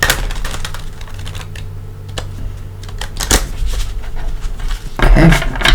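Tarot cards being shuffled during a card reading, a papery riffling and clicking that rises in short bursts, with soft handling noises between them and no one speaking.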